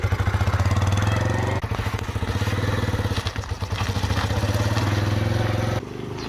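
A learner's motorcycle engine runs steadily and close, its throttle pulsing with gas and clutch over a low, chugging rhythm, then dipping briefly near the end.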